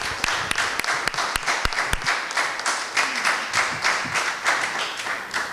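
Audience at a Hoboken Board of Education candidates forum applauding, a few sharp individual claps at first, then a dense run of clapping that holds at moderate loudness and gradually thins out.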